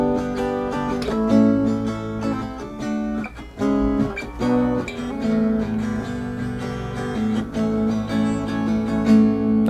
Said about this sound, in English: that acoustic solo part is going to sound like this